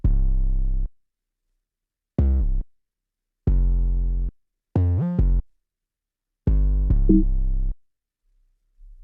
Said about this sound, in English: So the original 808 sounds like this here.